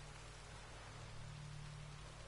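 Steady rain falls in The Witcher 3, an even, faint hiss of drops on surfaces with a low hum beneath, unbroken and alone for the whole stretch.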